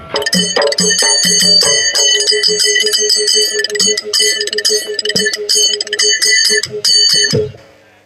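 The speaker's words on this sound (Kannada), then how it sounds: "ಬಾಜು ಇರುವ ಬೆಲ್ ಬಟನ್ನು ಟನ್ ಅಂತ ಬಾರಿಸ್ರಿ" Bright bell chimes in a rapid, busy pattern of repeated strikes ring loud and close for about seven seconds, then fade out, used as a subscribe-bell sound effect.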